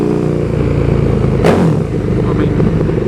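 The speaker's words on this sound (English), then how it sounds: "feels abnormally loud, like there is no exhaust at all. It's just straight through" KTM 1290 Super Duke R motorcycle with a straight-through exhaust, giving a loud, steady engine roar with a brief rising rev surge midway, heard close under the sound of a voice.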